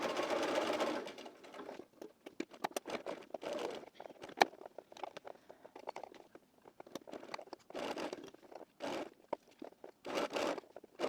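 A sewing machine stitches the cuff of a wrap dress in short rapid bursts separated by brief pauses, close and clear.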